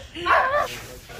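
A close dog lets out a brief yelping bark in the middle of the clip, mixed with a person talking indoors.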